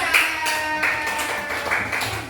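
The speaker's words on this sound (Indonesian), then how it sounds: "Tepuk tangan buat kelompok 4." Class of students applauding a group in a classroom, a fairly close, busy patter of claps with a steady tonal hum underneath, lasting a couple of seconds.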